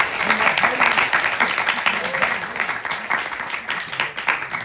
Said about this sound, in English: Give a round of applause to all the people who served when we were at home sleeping